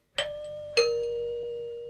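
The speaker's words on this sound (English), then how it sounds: "Suddenly, the doorbell rang." A doorbell rings with two clear chimes about half a second apart, the second tone lower and ringing out with a long fading sustain, close and alone with no talk.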